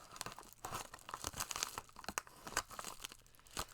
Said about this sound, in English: Let's open this in such a way that I don't cut into anything important.